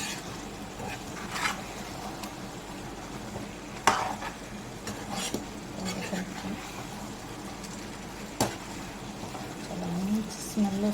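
Chicken gravy fry is stirred in a pan with soft scraping and a few sharper knocks of the spoon against the metal, under a low sizzle, while someone talks over it.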